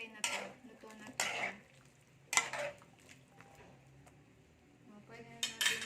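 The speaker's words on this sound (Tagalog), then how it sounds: "Haluin lang natin." Beef and asparagus stirred in a pan, with several bursts of utensil scraping and clinking against the metal over a faint sizzle, separated by quieter gaps.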